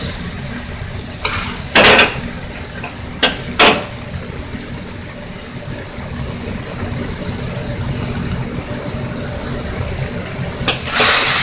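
Beef and broccoli in a sizzling pan with broth, seasoned with pepper and sesame oil, gives a steady low frying hiss while a utensil clatters and scrapes against the pan in a few sharp, close knocks.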